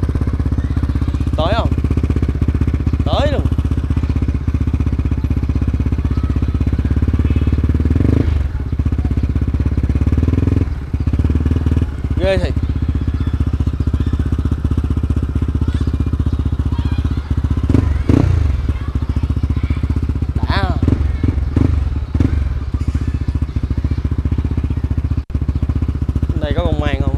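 A Honda Winner 65zz motorcycle engine runs with a steady low drone throughout, while someone talks over it at intervals.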